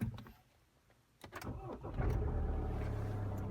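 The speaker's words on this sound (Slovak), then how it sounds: "Teraz už len zistiť, ako sa to štartuje." A car engine cranks and catches after a short pause, then settles into a steady low idle rumble, heard close up with a few clicks and handling noises beforehand.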